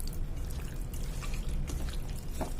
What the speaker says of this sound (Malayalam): ആ വെള്ളം കൂടെ ഇതിലേക്ക് ഒഴിച്ചു വെക്കാം